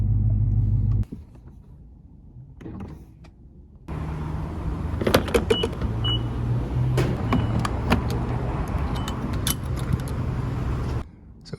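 A Dodge Hellcat's engine rumbles steadily up close as the car rolls into a gas station and settles, with a few clicks and knocks over the low idle.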